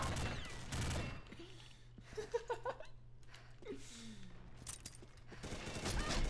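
Rapid gunfire from the online shooter Combat Arms comes in dense bursts of automatic fire, loudest near the start and again at the end, with quieter game noises in between.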